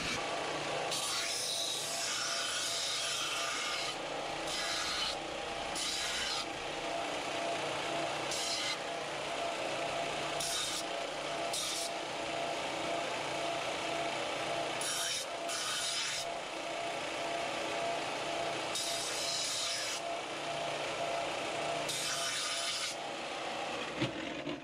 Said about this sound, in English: next I'm going to take this over to my sort of rough belt sander, and then I'll go to a finer belt sander.